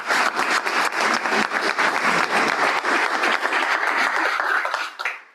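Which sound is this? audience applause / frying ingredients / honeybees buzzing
audience applause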